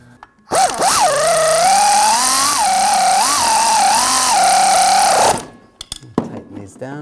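A power tool spins up loudly to run nuts down on a rear driveshaft coupler of a 2007-2013 BMW 328i 3.0L inline-six, a sustained buzzing whir with wavering pitch for about five seconds before cutting off.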